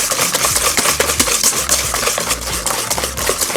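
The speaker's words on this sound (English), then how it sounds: "you wanna vigorously whisk for about 30 seconds" Whisk beating brown butter and sugar in a bowl for snickerdoodle cookies, fast rhythmic scraping clicks against the bowl, close and loud, with no voices.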